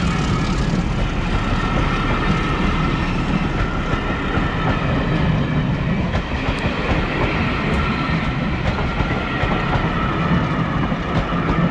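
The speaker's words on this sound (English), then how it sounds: "you fancy going on this steam train, this is it" A steam train pulls out of Aviemore station, its loud, continuous rolling rumble close by and steady, with a faint rhythmic clatter of wheels on rails throughout.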